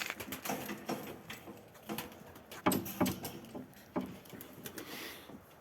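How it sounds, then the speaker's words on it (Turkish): A baby bird calls in short, repeated chirps and peeps at close range, mixed with light patter and rustling and no talk. "Yavru kuş herhalde"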